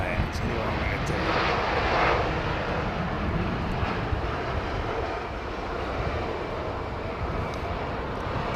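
A British Airways airliner from Las Vegas on final approach at London Heathrow, heard as a steady broadband jet rumble close by, with a voice talking faintly over it.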